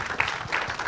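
Audience clapping at a corporate leadership session in India, a brief burst of applause from a seated crowd, steady and fairly close.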